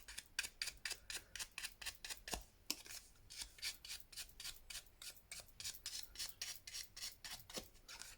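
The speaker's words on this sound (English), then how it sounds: "A little bit of ink and just run that around that piece of card." Ink pad rubbed around the edge of a small card tag, a quiet rhythmic series of short scratchy rasping strokes repeating steadily and close.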